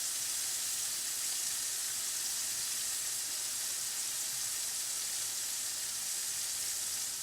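Fish fries in oil in a pan, making a soft, continuous hiss-like sizzle that stays even and fairly quiet from start to finish, heard up close with no voices.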